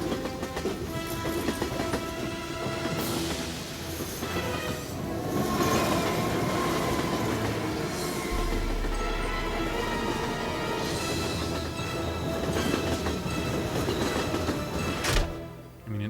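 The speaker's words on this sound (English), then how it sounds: "my kid playing with his little toy train set, just by adding sound effects" A loud, continuous toy train set rumble with rhythmic clickety-clack of wheels on rails and occasional metallic squeals, close and steady throughout.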